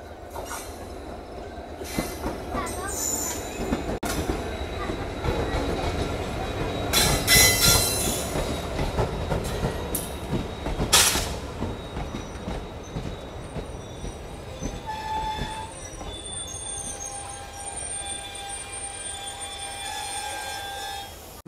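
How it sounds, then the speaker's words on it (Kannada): A Rani Chennamma Express sleeper coach passes the Miraj–Belagavi passenger train near Chinchli station, with a steady rolling rumble, rattling and clatter, bursts of squealing wheels and hissing, and a high whine near the end. "ಇದು ಚಿಂಚ್ಲಿ ಸ್ಟೇಷನ್ ಹತ್ರ ನಮ್ಮ ಕ್ರಾಸಿಂಗ್ ಆಗ್ತಿದೆ ಸದ್ಯಕ್ಕೆ ಮಿರಾಜ್ ಬೆಳಗಾವಿ ಪ್ಯಾಸೆಂಜರ್ ಟ್ರೈನ್ ಜೊತೆ"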